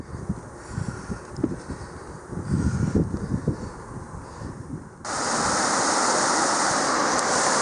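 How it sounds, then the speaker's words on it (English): Steady broadband rushing of a river flowing in a valley in Georgia, with wind buffeting the microphone early on before the water noise becomes loud and constant. "This is the river I'm following up the valley"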